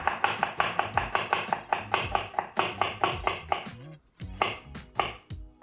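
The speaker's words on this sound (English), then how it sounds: "I'm going to take 1 onion and I'm going to slice it roughly." A knife roughly slices an onion on a cutting board, crisp close strokes in a fast rhythm, pausing briefly before a few more cuts.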